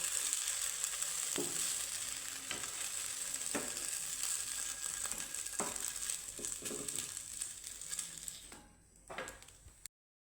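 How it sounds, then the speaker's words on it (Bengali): Oil sizzles steadily in a frying pan for a meatless home dish, a continuous close, bright crackle with occasional soft clinks of utensils, cutting off abruptly near the end. "এখানে ওই ফ্রাই প্যানে আমি এক চামচের মতো দিয়েছি তেল"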